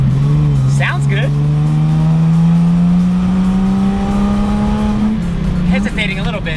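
Engine of a Datsun 240Z running on old gasoline, a steady droning hum that climbs slowly in pitch as the car pulls away and then drops near the end. Voices are heard briefly at the start and again near the end.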